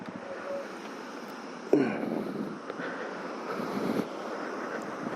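Steady broadband rushing of falling water with a gusty, wind-buffeted roar that swells partway through; no voices.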